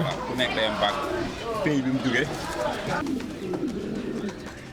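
Pedigree pigeons at an agricultural fair exhibit coo softly and repeatedly amid a busy background of voices and crowd noise.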